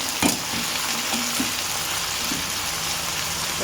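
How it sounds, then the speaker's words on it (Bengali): Potatoes and onions frying together in a hot wok give a steady, even sizzle that runs throughout, with a few faint clinks near the start and no talking. "আলুগুলো কড়াইতে দিয়ে দিয়েছি আলু আর পেঁয়াজ একসাথে"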